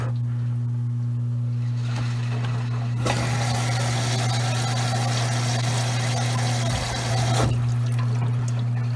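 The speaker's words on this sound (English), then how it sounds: "Our circulator, the secondary pump." A Maytag washer's circulator secondary pump running on a normal cycle, a steady low hum joined by a loud rushing wash of water that starts abruptly and then cuts off.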